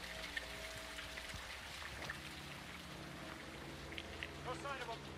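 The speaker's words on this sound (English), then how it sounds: "It's raining fucking hard." Heavy rain pours steadily in the Call of Duty: Modern Warfare II campaign, a constant wash with scattered splashes, mixed with faint game sounds and a few brief tones toward the end.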